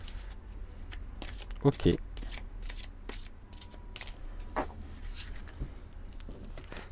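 Tarot cards are handled and shuffled close up with soft rapid flicks and rustles, a couple of louder slaps, and a brief word spoken.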